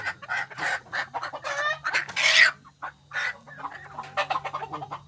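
Native black chickens cluck close by in a busy series of short, uneven bursts, with one louder squawk in the middle and no voices over them.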